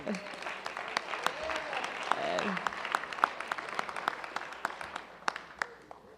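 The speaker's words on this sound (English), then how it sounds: "As the crowd goes crazy." An audience at a Follies 2017 stage show applauds a prize-basket winner with brisk, sustained clapping from many hands filling the room for several seconds.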